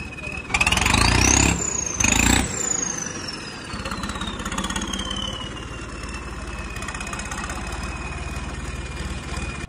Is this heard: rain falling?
no